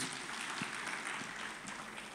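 A church congregation at a Sunday worship service claps together, a soft, steady wash of applause heard from a distance, faint and continuous throughout.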